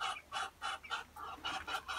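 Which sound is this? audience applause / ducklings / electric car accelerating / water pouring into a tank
ducklings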